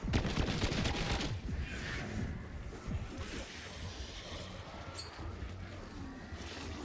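Rapid gunfire in a Black Ops 7 Zombies session pours into an undead horde, a fairly faint, dense clatter of shots that is heaviest at the start and continues steadily throughout.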